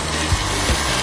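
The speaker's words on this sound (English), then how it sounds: "Put everything in a blender and mix it well." A blender runs steadily, mixing fresh arugula with liquid, a loud close whirring drone with a few soft thumps, no voices.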